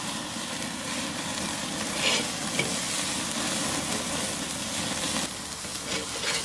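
Thick burgers sizzle and crackle over an open flame on a Weber grill, a steady, close, fairly loud frying hiss with no talk.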